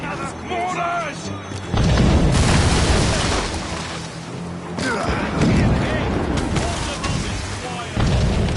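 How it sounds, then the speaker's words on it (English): Mortar fire in the video game Assassin's Creed Rogue, with heavy booming blasts and rumbling explosions in several loud waves, mixed with crackling debris and shouted voices. "Mortars!"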